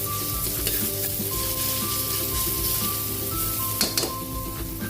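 Ginger and garlic fry in a hot pan with a steady, close sizzle, punctuated by stirring and a few faint metal clinks near the end.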